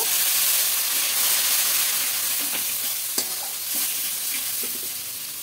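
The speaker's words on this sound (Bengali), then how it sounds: "এবার সব মশলাগুলো কষিয়ে নেব। সামান্য একটু জল দেব।" Spices for a prawn curry with ridge gourd and potato being sautéed with a splash of water, a loud continuous sizzling hiss with a few faint scraping stirs underneath.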